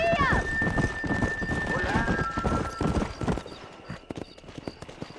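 Horse hooves clip-clop at a gallop in the western video game Red Dead Redemption, with a whinny near the start; the steady hoofbeats run under game music and a voice, fading toward the end.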